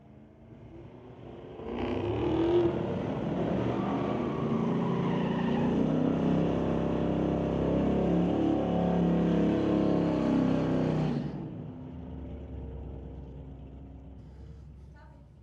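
A diesel pickup truck and a Mustang launch side by side at Mission Raceway Park drag strip, a loud sustained engine roar rising and then cutting off, with an announcer talking over it.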